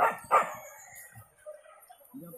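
Hunting dogs barking during a wild boar hunt: two sharp barks up front, then sparse faint yelps and rustling outdoors, with a voice briefly at the end.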